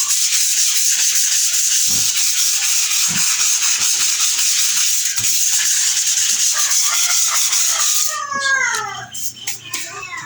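Sandpaper scrapes back and forth over a dried Mowilex water-based clear paint finish in a continuous close rubbing, then gives way to a voice and chatter at the end.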